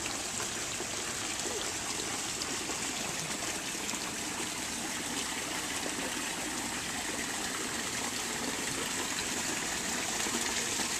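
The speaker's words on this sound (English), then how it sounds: "how it goes right over the top of the rocks, and you got the waterfall coming down" A garden pond waterfall spills over rocks in a steady, loud, unbroken rush of splashing water with no pauses and no voices.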